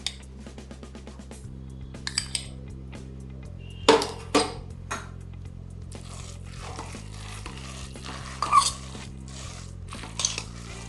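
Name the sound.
stirring semiya halwa with ghee in a pan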